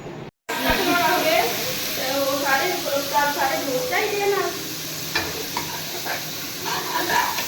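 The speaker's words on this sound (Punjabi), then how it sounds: "ਇੱਧਰ ਮੈਂ ਲੱਗੀ ਆ ਹੁਣ ਤੁਰਕਾ ਭੁੰਨਣ ਕੜਾਈ ਮੈਂ ਰੱਖ ਦਿੱਤੀ ਗੈਸ ਤੇ" An onion-spice tadka for egg curry sizzles steadily in a kadai on a gas stove, with the scrape and clatter of stirring throughout and a voice talking over it.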